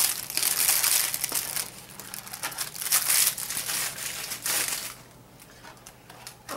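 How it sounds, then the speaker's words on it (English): Continuous crackly crinkling of shrink wrap on Dollar Tree Valentine's chocolates being handled up close, loud and busy at first, then easing off toward the end. "it's got a nice, satisfying shrink wrap to it. Nice, crinkly sound."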